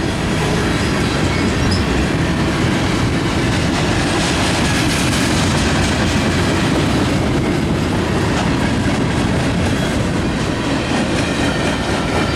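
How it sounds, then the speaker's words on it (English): CN local freight train L521 rolls westbound through Battle Creek, Michigan, a loud, steady, close rumble of railcars with rhythmic wheel clatter and occasional squeal running the whole time without pause. "Local train."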